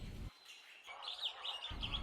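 Pet macaw parrots calling indoors, scratchy raspy chirps and squawks at moderate level over a muffled low background rumble.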